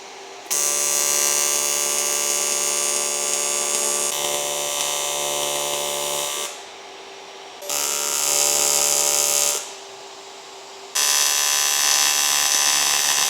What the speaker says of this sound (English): Let's get all this welded up